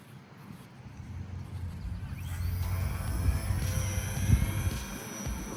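A small micro RC plane climbs back into the air over tall grass, a thin buzzing motor whine that grows louder and rises as it passes, distant at first, then nearer over outdoor background noise.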